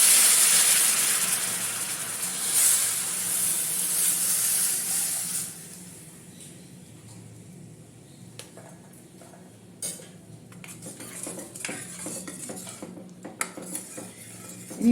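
Strained jaggery syrup poured into a hot pan for sweet mango pickle gives a loud steamy hiss that fades after several seconds, followed by faint clinks of a utensil against the pan.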